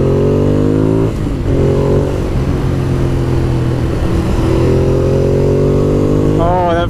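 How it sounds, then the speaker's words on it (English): A 2016 Ducati Monster 821 motorcycle engine pulling hard out of a turn, loud and close, with a strong rising drone, a brief dip around one second, then climbing revs again toward a sharper rise at the end. "that feeling of going through a turn and like the really meaty engine just pulling you out of it"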